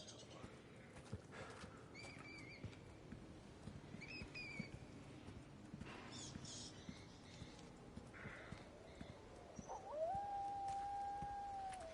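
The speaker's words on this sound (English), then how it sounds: "With that sound, that tells me that I'm not fighting against people anymore. I'm probably going to be fighting dogs." Dogs howl in the video game Resident Evil 4 against a faint, busy ambient background with scattered thuds; a single drawn-out howl rises and holds toward the end, clearer than the muffled earlier cries.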